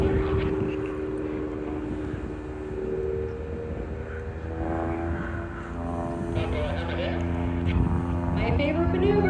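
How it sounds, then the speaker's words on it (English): A propeller aerobatic airplane performing at AirVenture Oshkosh, its engine droning at a distance with rising and falling pitch as it maneuvers, heard under nearby crowd voices. "He had some really good aerobatics going on with his plane."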